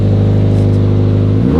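Toyota GT86 sports car engine revving hard up close, a loud sustained growl with steady harmonics that falls away sharply at the end as the revs drop.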